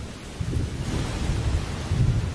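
Rain and thunder at the height of the wet season, a steady hiss of heavy rain over deep rolling rumbles of thunder, close and continuous with no voices.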